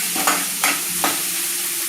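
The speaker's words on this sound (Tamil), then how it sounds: "வெங்காயம் பொன்னிறமாக வந்ததும் தக்காளி சேர்த்துக்கலாம். இன்னும் கொஞ்சம் வதங்கணுது." Onions and tomato sauté in a pan for Bombay chutney: a steady close sizzle with three sharp stirring scrapes spaced through it, and no voices.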